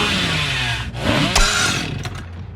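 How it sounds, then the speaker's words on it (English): Chainsaw in the mobile horror game Dead by Daylight Mobile, a loud, continuous buzzing roar that rises briefly in the middle, heard alone without talk. "This chainsaw"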